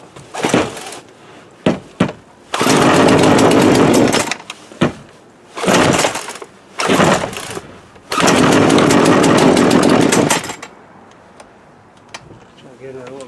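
A Poulan Pro 42cc PP4218A chainsaw with running trouble sputters into several short revving bursts separated by gaps, with two longer loud runs before it dies to quiet.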